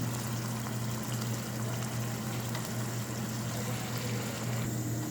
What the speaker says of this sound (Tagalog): Saka natin lalagyan siya ng tubig.